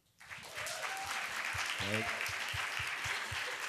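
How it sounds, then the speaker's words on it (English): Audience applause at a storytelling symposium about Burning Man, a sustained burst of clapping rising quickly and holding steady, with a speaker's voice briefly heard over it. "give me an applause with this one"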